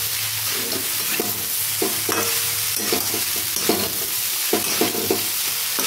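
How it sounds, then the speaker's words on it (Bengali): Vegetable chow mein is stir-fried in a pan, a loud continuous sizzle with repeated scraping strokes of a spatula at an uneven rhythm, close up and with no voices. "এইভাবে এইভাবে ভাজতে হবে বন্ধুরা।"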